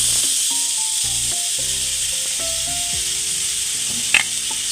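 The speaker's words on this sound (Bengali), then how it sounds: "তেলটা গরম হয়ে গেলে পরে গ্রেট করা পটল আর গ্রেট করা আলু ওর মধ্যে দিয়ে দেবো।" Grated pointed gourd and potato sizzle steadily in a little hot oil in a kadai, a constant bright hiss running the whole time beneath soft background music, with a brief clatter near the end.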